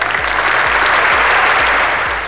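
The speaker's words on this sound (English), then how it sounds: "Big applause for him." Dense applause from a crowd fills the whole moment, steady and loud, with a few low thumps underneath.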